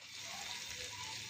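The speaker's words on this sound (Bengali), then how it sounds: "ভালো করে ভেজে নিয়ে আসছি।" Leftover ingredients fry in a pan with a soft, steady sizzle, faint and close, heard alone.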